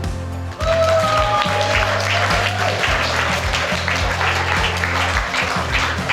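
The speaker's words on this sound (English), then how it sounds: "I'd like to ask you all to give a round of applause for our bridesmaids and groomsmen" Wedding guests give a round of applause for the bridesmaids and groomsmen, sustained clapping through the reception hall over a low rhythmic musical backing.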